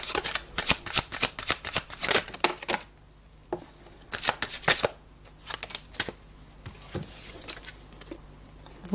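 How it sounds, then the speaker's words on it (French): Tarot cards being shuffled during a reading, rapid papery riffling in repeated bursts with short pauses between them, close and fairly soft. "si tu peux donner 3 cartes de synthèse sur ce tirage, Michael"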